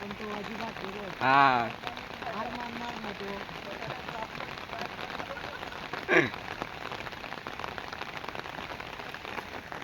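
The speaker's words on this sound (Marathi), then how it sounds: "मस्त पैकी पाऊस पडता बघा" Rain falls steadily on flooded rice paddies in the Konkan countryside, a constant close patter, while a voice speaks briefly near the start and a short sharp sound cuts in later.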